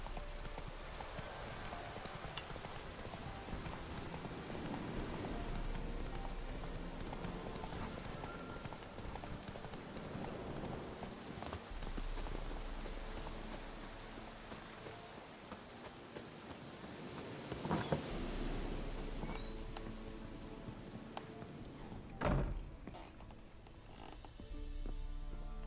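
In Witcher 3, the horse Roach trots through rain, its hooves clip-clopping steadily under continuous soft rainfall, fairly quiet, with a few louder thuds near the end.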